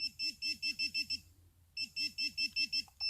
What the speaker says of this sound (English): Just vibrate and beep.